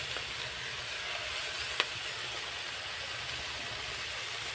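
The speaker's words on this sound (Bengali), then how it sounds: "একসঙ্গে পেঁয়াজ আর কুচো চিংড়ি মাছ ভালো করে ভেজে নেব আমি।" Chopped onion and small prawns frying together in a kadai, a dense steady hiss of sizzling oil that holds at an even level throughout, with one brief tap, close and unaccompanied by speech.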